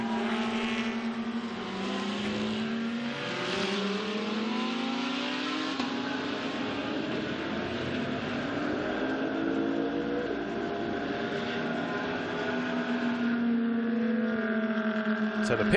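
Audi GT race cars scream past one after another at the Shanghai circuit during a Blancpain GT Series Asia race, their engines rising and falling in loud, sweeping revs that stay continuous throughout.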